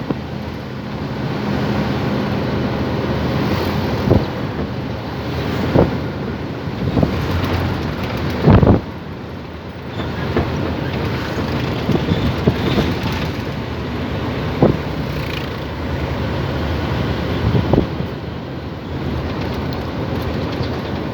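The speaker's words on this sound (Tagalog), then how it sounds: "Lakas ng hangin dito," Strong wind roaring and buffeting continuously, with sharp gusts and thumps hitting the microphone every few seconds.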